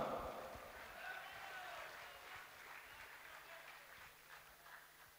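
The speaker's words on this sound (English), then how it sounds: "Could we please have a round of applause for Mr." Faint audience applause at a school stage-craft event runs steadily throughout, distant and low in level, with a brief voice near the start.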